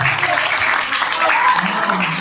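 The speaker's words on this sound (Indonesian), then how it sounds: "Tepuk tangan dulu." An audience claps at a learning academy event, a steady wash of applause filling the whole moment at moderate loudness, with faint voices mixed underneath.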